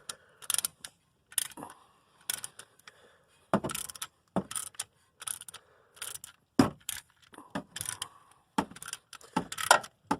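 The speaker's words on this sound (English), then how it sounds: "Get my ratchet, and then I'm going to start tightening it up." A ratchet with a 19 mm socket tightens a tool compressing the front brake caliper piston on a 2009 Toyota Yaris, giving close, sharp bursts of rapid clicking separated by short pauses.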